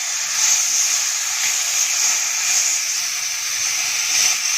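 Okra and onion frying in hot oil as tamarind pulp goes in, giving a steady, close sizzle and hiss that holds evenly throughout with no talk.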